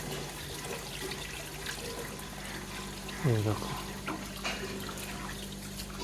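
Tap water runs and splashes steadily while raw meat is washed clean of blood, with a brief louder pour midway and a person talking over it.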